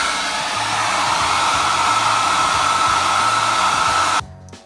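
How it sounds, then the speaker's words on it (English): A hair dryer drying paint blows steadily with a loud, even whoosh and motor hum for about four seconds, then cuts off abruptly. "You can also use your hair dryer to dry the paint."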